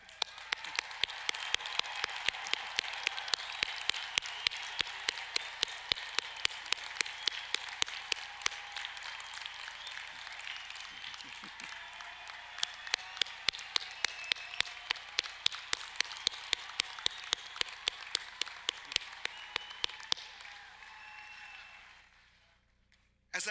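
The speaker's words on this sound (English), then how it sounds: "give you all a big round of applause to get the energy going here" Graduates at a university business school commencement ceremony applaud, a long run of claps that stays dense and steady, fades briefly in the middle, then swells again and dies away toward the end.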